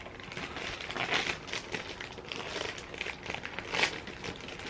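Tape is peeled and torn off a package, giving close crinkling and ripping noises in irregular bursts, with two louder tearing moments.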